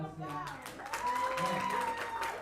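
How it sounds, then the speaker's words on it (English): An audience at a debate competition claps in a dense, continuous patter while a voice speaks over it. "let's give a big round of applause"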